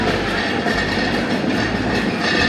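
Dhumketu Express rolling through Ibrahimabad railway station in Tangail, a steady, loud rumble of train wagons with faint rhythmic clatter throughout, no voices.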